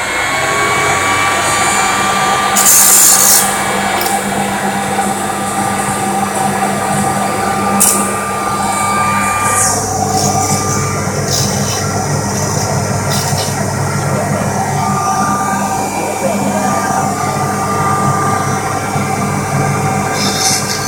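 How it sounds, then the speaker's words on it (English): A grinder fitted with a grinding stone runs on a RAD PRO 3 rockering machine, giving a steady loud mechanical whine and hum with bright, sharp bursts of grinding contact scattered throughout. "Turn on the grinder."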